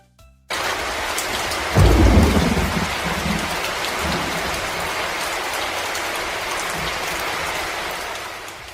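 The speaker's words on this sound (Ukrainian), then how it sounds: "насунули чорні хмари і пішов дощ" Steady heavy rain pours down, with a loud thunderclap rumbling early on and fading into the continuous downpour.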